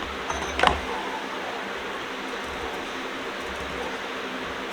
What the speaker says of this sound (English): And then I'm going to let the wire wheel do the rest.